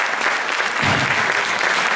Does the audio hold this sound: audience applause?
yes